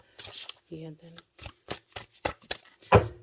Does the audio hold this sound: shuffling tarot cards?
yes